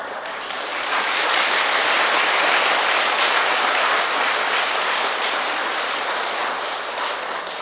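Audience clapping at a Buddhist dharma service builds quickly after a soft start and holds as a full, even wash of hands for about seven seconds, close and fairly loud, with no speech on top.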